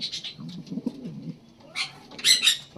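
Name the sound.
pigeons in a loft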